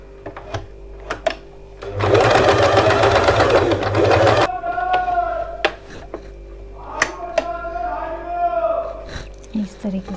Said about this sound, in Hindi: इस तरीके से इसको हम सिलाई लगा लेंगे